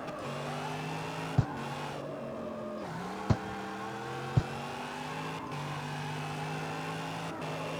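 A muscle car in the CarX Street racing game drives and slides, its engine holding a steady sustained drone throughout, with a few sharp clicks, and no talk.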